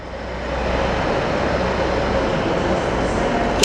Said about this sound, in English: 197 110 on the B1152's East Transport for Rail service to Manchester Airport.